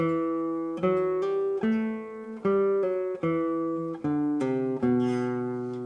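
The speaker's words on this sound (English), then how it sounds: "melody is played, it sounds like this." A plucked classical guitar plays a slow melody from Granadinas, one clear note about every second, each ringing and fading before the next.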